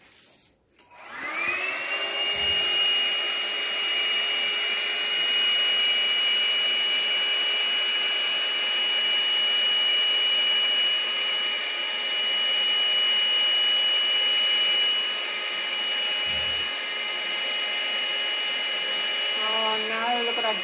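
A hair dryer blows steadily on acrylic paint for a bloom spin pour in pink, orange and copper, its loud, even whine running nearly twenty seconds with a brief dip partway.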